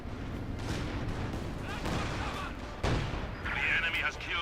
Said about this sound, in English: Artillery going down, wiping out the Maxim.